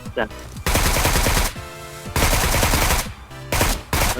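Bursts of automatic gunfire in a PUBG Mobile match ring out in long, loud volleys separated by short pauses, with a brief voice heard at the start.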